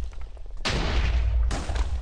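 Minecraft house cannon going off during a PvP match, two loud sudden blasts of broadband roar, the second following under a second after the first fades, with no talk.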